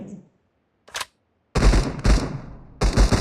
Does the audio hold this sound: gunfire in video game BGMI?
yes